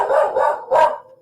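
A dog named Jesse barks from down a hall, two sustained bark bursts followed by a third after a short pause, moderately loud with a slightly distant, roomy quality.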